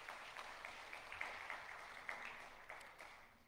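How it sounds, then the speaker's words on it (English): Faint, sparse clapping from a church congregation during a Sunday service, scattered claps rising and falling in a soft, distant patter. "you can clap if you want to"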